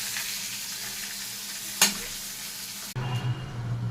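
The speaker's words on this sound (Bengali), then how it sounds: "কটা চিংড়ি মাছ ঘরে ছিল, ভাজতে বসিয়ে দিলাম" Prawns frying in a pan give a steady, close crackling sizzle with stirring, broken by a sharp scrape near the middle and a sudden shift to a quieter, more bubbly frying tone toward the end.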